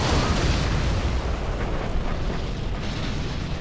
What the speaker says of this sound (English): And here comes the artillery.